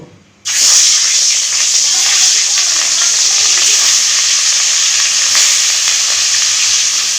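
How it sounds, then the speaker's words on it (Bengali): Rohu fish pieces frying in oil burst into a loud, dense sizzle after a quiet half second, then hiss and spit steadily and close up to the end. "মাছগুলো ভেজে নেব"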